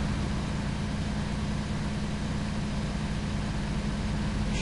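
A car engine in the video game Mafia, driven in first gear and sounding strained, gives a steady loud low drone with a dense broadband roar throughout, no voices.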